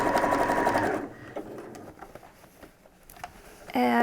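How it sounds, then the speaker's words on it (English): A sewing machine runs a fast, steady stitching burst along the inside seam of a DIY PPE medical isolation gown, then stops, with soft handling clatter and a short second burst near the end. "let's sew that seam on the inside down"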